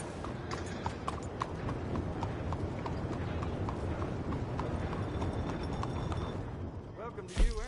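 Horse hooves clip-clop at a steady walking rhythm in the Red Dead Redemption 2 video game, clear and continuous beneath a voice.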